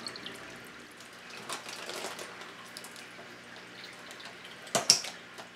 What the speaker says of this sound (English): I'm going to introduce some of this water in with the fish.